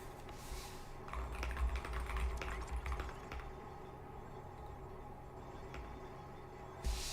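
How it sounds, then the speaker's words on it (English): Fingers type quietly on a SteelSeries computer keyboard, a rapid patter of close key clicks that thins out toward the end, with no talking. "Oh, you can hear my keyboard? This is a... Oh, I forget what it's called. It's a Steel Series one."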